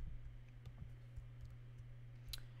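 Computer keyboard keys pressed a few times while working in lighting control software, giving sparse light clicks at irregular intervals over a steady low hum.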